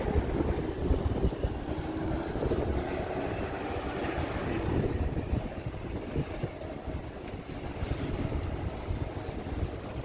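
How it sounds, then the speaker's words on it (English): Strong wind buffets the microphone in continuous gusty rumbles, with no voices, just a broad roaring rush throughout, up high beside the river in Nakameguro, Tokyo, during cherry blossom season. "It's really windy up here."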